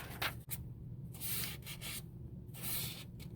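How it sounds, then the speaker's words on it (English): Paper freshly glued into an altered junk journal is rubbed by hand to smooth out bubbles, giving close, soft swishing strokes in a few bursts with brief pauses between them. "rubbing that a little bit because it bubbled with the glue"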